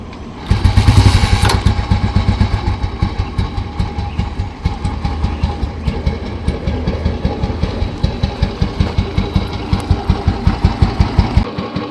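An old motorcycle fitted with an electronic CDI kit fires up and settles into a steady, loud, closely recorded running beat, its rapid regular exhaust pulses continuing throughout with no talking.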